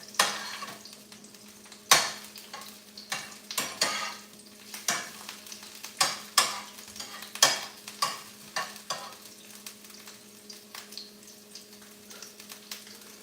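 Food sizzles steadily in a pan while a utensil scrapes and stirs in repeated strokes, close by, with no talking.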